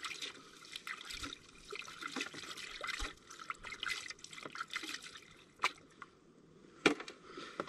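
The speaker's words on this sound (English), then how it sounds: "Wash out the mats." Water splashes and trickles as gold pan sluice mats are rinsed out, a steady close wash broken by a few sharper drips and splashes.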